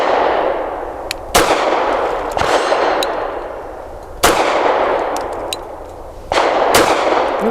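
Four loud, sharp pistol shots from a Tisas Tank Commander 9mm 1911 firing nickel-plated steel case ammunition, spaced a second or more apart, each ringing off with a metallic clang and a long echoing decay outdoors.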